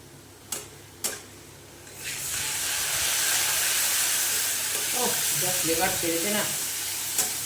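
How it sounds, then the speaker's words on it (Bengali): Cumin and coriander paste hits a hot pan for a yogurt bottle-gourd curry: a couple of sharp clicks, then a loud, steady sizzle that holds to the end while the paste is stirred and fried. "জিরে গুঁড়ো আর ধনে গুঁড়োর পেস্টটা এটা দিয়ে ভালো করে কষে নেব"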